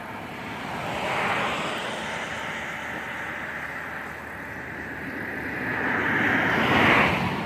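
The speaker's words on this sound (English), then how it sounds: "I was just letting those cars pass." Cars passing on a road beside a garden, a steady broad whoosh that swells near the start, eases, then rises again toward the end, fairly loud with no talk.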